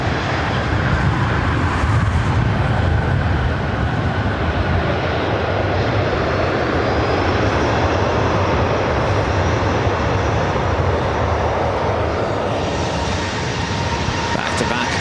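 Southwest airliner jet engines roaring on takeoff at LAX, a loud, steady, broadband roar sustained throughout with no break, close and powerful.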